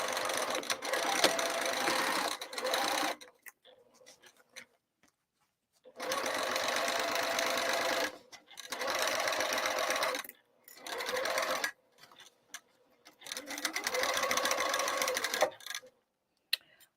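A sewing machine stitches the exterior of a bowler bag at stitch length 3, running in steady loud bursts of rapid mechanical whirring, stopping and restarting several times with short silent gaps between runs.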